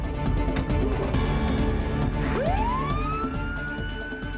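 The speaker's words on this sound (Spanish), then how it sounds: "Cuando la ambulancia partió" An ambulance siren wailing loud and close, with a steady rising and falling tone that sweeps up sharply partway through as the vehicle departs, over a dense musical backdrop.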